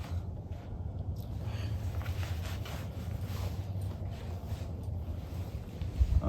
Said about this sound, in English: Ooh, that wind's a blowing.